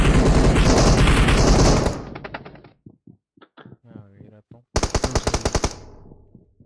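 Shotgun and other gunfire ring out in the mobile game PUBG Mobile. Dense, loud rapid-fire bursts open the stretch, give way to sparse shots and a voice, then a second close burst follows.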